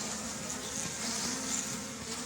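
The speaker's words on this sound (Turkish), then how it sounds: "Arılar tekrar dağılmaya başladı." Constant, close buzzing of a swarm of honeybees during winter hive care, a thick droning hum without pause.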